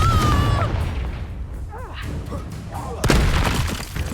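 A Confringo fire-blast spell from a wizard duel in Hogwarts Legacy on Xbox Series X lands as a loud, rumbling boom. A second sharp blast follows about three seconds later over a dense background of game effects.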